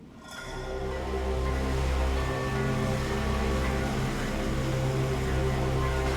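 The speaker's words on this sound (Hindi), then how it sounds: "हम सिर्फ इसलिए आगे बढ़ रहे हैं क्योंकि पानी की तेज धार हमें खींच रही है।" Strong rushing water current surges steadily and loudly, a dense roaring wash as an underwater sailing ship is pulled along in an anime scene.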